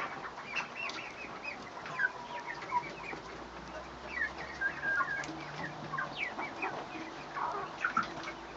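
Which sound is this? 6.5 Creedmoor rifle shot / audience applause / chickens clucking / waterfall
chickens clucking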